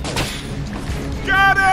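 A gas cylinder in the video game Binary Domain is shot and bursts in a loud, sustained explosive roar near the end, following a stretch of game noise with someone talking over it.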